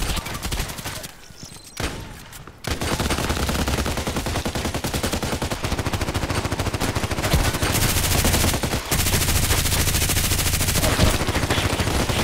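Rapid sustained bursts from the RPKT tactical machine gun in the shooter game Contract Wars, loud and dense, with a brief lull near the start before continuous high-rate fire resumes for the rest of the stretch.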